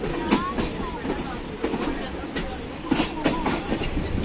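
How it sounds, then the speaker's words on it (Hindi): A railcar train on the Lahore–Rawalpindi regular service passes Shahdra Junction on a curve, steady rumble with rhythmic clickety-clack of wheels over rail joints and occasional squeal, fairly close and continuous. "आज की छोटी सी वीडियो में हम देखेंगे 101 अब रेल कार का गुज़र शाहदरा जंक्शन से"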